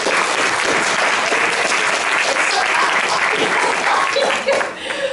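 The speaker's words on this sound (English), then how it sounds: "Big round of applause for Catherine." Audience applauds an interviewer at a presenting event, loud continuous clapping with a few laughs and cheers mixed in, fading toward the close.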